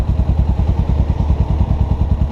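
A 1993 Suzuki GS500 cafe racer, a 500 cc motorcycle, runs with a loud, rapid, even engine thump from its exhaust, close by and alone.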